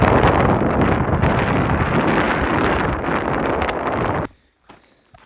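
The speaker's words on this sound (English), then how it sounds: "There's a big gust of wind." A big gust of wind on a mountain trail roars into the microphone for about four seconds, loud and buffeting, then cuts off abruptly into near quiet with a couple of faint rustles.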